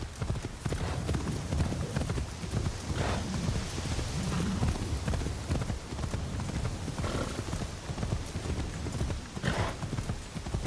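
Horse hooves clip-clop steadily in a video game set in rural Japan, a continuous rhythmic clatter over a dense rain-like wash, with faint voice traces.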